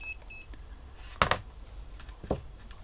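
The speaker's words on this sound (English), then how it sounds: "So we've got continuity tester going." A continuity tester probing inside a Canon Palmtronic 8s calculator, with a couple of short faint beeps followed by louder clicks and taps of probes touching contacts, close and quiet.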